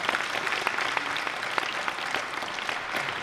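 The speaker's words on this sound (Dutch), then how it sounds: "Even een applaus." A room full of people at a Dutch matinee event gives a short round of even applause, steady clapping from many hands at moderate volume with no voices over it.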